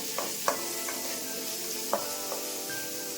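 Chopped onion fries in coconut oil for a Mangalorean kadle manoli sukka, a steady close sizzle with a few sharp spoon-stirring knocks against the pan and no talking.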